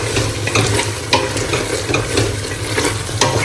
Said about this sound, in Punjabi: ਇਧਰ ਬਣਦਾ ਪਿਆ ਆਪਣਾ ਤੜਕਾ